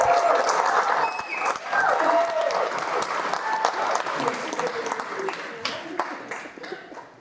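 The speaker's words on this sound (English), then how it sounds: "A round of applause for Alice." Wedding guests break into warm applause for a woman named Alice, dense clapping that carries on for several seconds. The clapping is loud at first, eases a little, and has a few voices mixed in.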